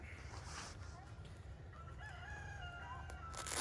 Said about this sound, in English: The rooster agrees.